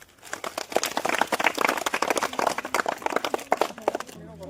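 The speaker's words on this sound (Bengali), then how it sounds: "তো একটা হাততালি দাও" A crowd of people claps for quiz winners in a village gathering, dense uneven applause that swells and carries on for several seconds before cutting off.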